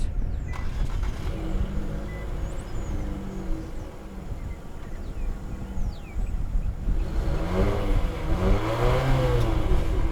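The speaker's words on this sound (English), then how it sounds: "All right, and let's turn it on. It is a push button start." A 2022 Infiniti QX55 Essential AWD is started with its push button, a mechanical click and crank giving way to the engine catching and settling into a rising idle hum, heard from inside the cabin with no talking.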